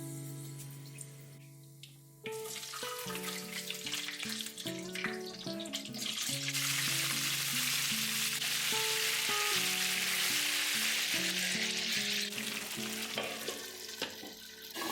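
Dried chillies, bay leaf and asafoetida go into hot oil and start frying with a sudden loud sizzle that then holds as a steady crackle, with no talk over it.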